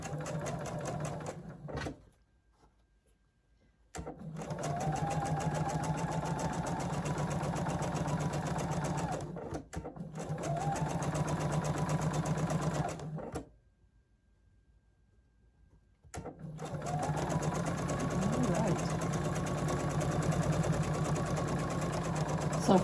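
A sewing machine stitches quilt pieces in long, fast, steady bursts. Each run is loud and close, separated by short pauses of near silence.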